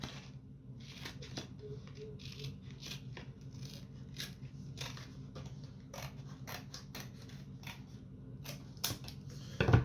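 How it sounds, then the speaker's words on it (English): Scissors snip through a paper triangle, cutting it in half with a run of short, crisp clicks and crunches at close range, quiet and steady over a low background hum, with no talking. "I'm going to cut this in half"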